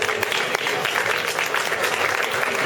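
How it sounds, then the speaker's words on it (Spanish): Dense, loud audience applause fills a PechaKucha presentation night, continuous and close with many hands clapping at once and a few sharper individual claps standing out. "Un aplauso para ellos."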